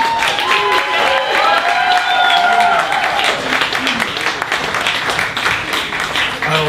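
Comedy club audience applauds and cheers in a loud, continuous burst of clapping mixed with whoops and voices, sustained throughout at close range.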